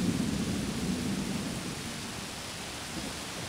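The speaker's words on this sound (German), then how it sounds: "Der Sturm kommt näher. Dieser Nieselregen wird bald stärker." An approaching storm with drizzling rain in an Agatha Christie video game, heard as a steady, fairly faint wash of rain noise with a low rumble that eases off slightly over a few seconds.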